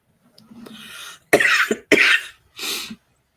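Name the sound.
coughing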